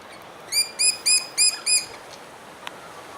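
A ground pigeon near its nest gives five quick, bright chirps in an even rhythm, close and clear over a soft hiss of background, then falls quiet.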